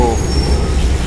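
A metro train rumbles past with a steady low roar and a faint high squeal, heard from nearby amid traffic.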